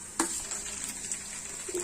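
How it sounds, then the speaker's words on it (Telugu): Okra and peanuts fry in a pan with ginger-garlic paste, a steady close sizzle with crackles and light stirring scrapes throughout. "ఓకే, వెల్లుల్లి పేస్ట్ మంచి వేయిన తర్వాత మొత్తం వేసేయండి. బెండకాయ పల్లీలు మొత్తం వేసేసేయండి."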